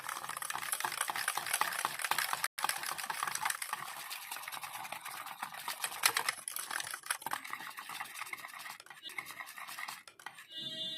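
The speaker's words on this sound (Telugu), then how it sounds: "కోకో పౌడర్ వేసినాక ఇదంతా మనం మంచిగా మిక్స్ చేసుకోవాలి" A spoon stirs ragi chocolate cake batter after cocoa powder goes in, making quick, close scraping and tapping against the bowl in a busy, irregular rhythm with one brief pause near the middle.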